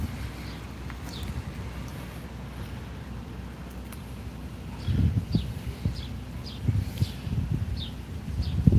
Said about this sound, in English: You guys can hear the birds?